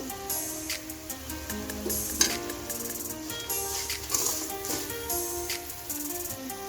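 Bitter gourd, onion and chili mixture frying in a pan: steady soft sizzling and crackling with occasional sharper pops and a utensil scraping, close and unaccompanied by talk.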